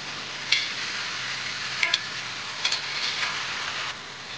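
Chicken pieces are stirred in a hot pan, giving a steady, close sizzle with a few sharp clicks and scrapes of the utensil scattered through.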